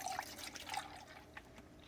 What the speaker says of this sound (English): the first thing that we're going to do is we're going to add our milk.